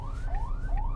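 Ambulance siren wailing close behind a car on a narrow two-way road, its rising sweeps repeating steadily and loud over low road rumble.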